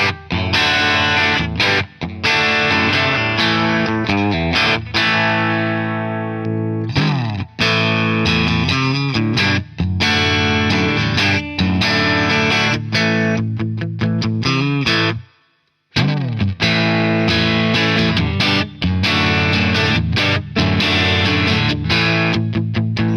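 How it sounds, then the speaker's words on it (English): Harley Benton Fusion-T HH electric guitar with coil-split humbuckers, crunchy mildly distorted tone, strummed chords and picked notes ringing out steadily, with one brief pause midway. "Let's try crunch with the single coils."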